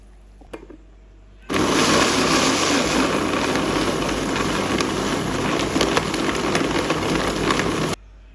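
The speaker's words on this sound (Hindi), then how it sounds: "हम मिक्सी को ऑन करेंगे" An electric kitchen mixer blends peach juice with sugar and water, starting abruptly with a loud, dense whirring roar that holds steady for about six seconds before cutting off.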